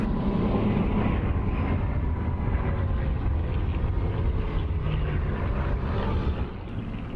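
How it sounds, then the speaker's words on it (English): Four Hawker Hurricanes sweep past at the Duxford Battle of Britain air show, their piston engines making a dense, sustained roar that fades slightly at the end. "our 4-ship of Hurricanes in from the left"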